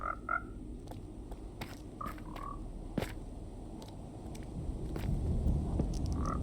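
Frogs croak in Minecraft, their short chirping calls scattered across a steady low ambient rumble, with a few distinct croaks near the start and end and no talking.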